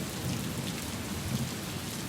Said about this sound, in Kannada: ಆ ರೀತಿಯ ಧಾರಾಕಾರ ಮಳೆಯಾಗಿದೆ